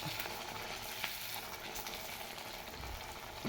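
Soaked-rice batter for vada puffs up as it is poured into hot oil, a close, steady crackling sizzle with faint bubbling that carries evenly throughout, with no voices.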